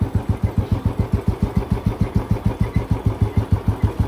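A motorcycle engine idles close by in a steady, rapid thumping beat, even and loud for the whole stretch with no talk.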